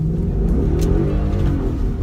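A Ford Mustang GT engine revs hard under heavy acceleration with a loud, steady low rumble that builds across the whole moment, close and alone.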